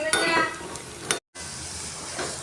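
Mustard seeds sizzling in hot oil while tempering for mango pulissery: a quiet, close crackling hiss with scattered pops and a brief stir, then a moment of silence before the sizzle resumes.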